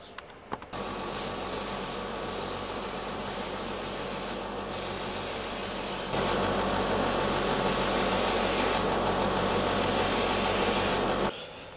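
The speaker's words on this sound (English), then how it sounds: "So I'll have to spray a touch of black and then go multiple coats of clear" A continuous hissing spray of black paint and clear coat on a model kit runs for several seconds, pausing and restarting, with faint rubbing or sanding texture underneath and no voices.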